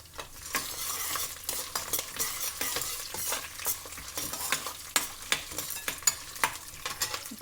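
Green chillies frying in a pan for lemon rice, a soft continuous sizzle with frequent stirring taps and scrapes, fairly quiet and without talk.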